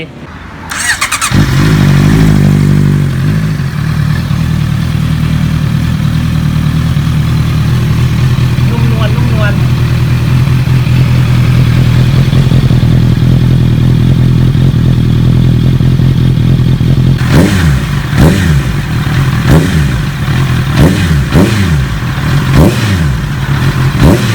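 A Honda CB650R/CBR650R motorcycle with its stock exhaust starts and idles steadily for a long stretch, then revs sharply several times in quick bursts near the end.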